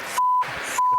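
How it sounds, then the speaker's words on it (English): Two steady, loud electronic beeps from a beeping machine, each held for a fraction of a second and separated by a short gap filled with low background noise. "You've got to have a beeping machine to do that one properly."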